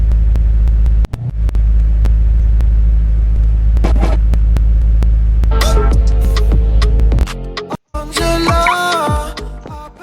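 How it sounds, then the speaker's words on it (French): A vehicle radio plays in the game Garry's Mod, with a loud, steady engine drone and hum for several seconds, then bursts of tonal music breaking in near the end. "Ça c'est la radio du véhicule les gars."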